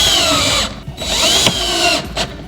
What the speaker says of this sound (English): I'm going to screw it to the bottom shelf first, and then put the 2 screws into the I-beam itself.